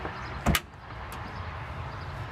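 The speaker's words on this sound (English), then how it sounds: "I'll just go ahead and close that door here" A door inside a Winnebago Revel Sport 44 C RV is pulled shut with a single short thud and latch click, close by, followed by a faint later tick and quiet cabin hum.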